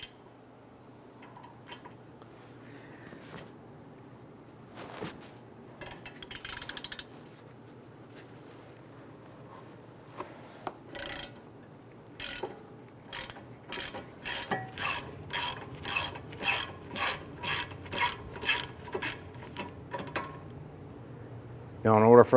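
A socket ratchet loosens the brake caliper bracket bolts on a 2005-2010 Chrysler 300, a quiet workshop scrape giving way to a steady run of rapid, evenly spaced metallic clicks that grow louder toward the end.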